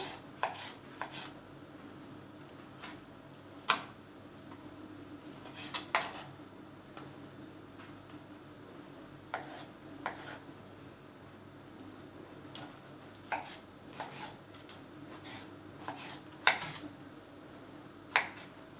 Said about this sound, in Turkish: İri iri doğrayacağım bunları böyle.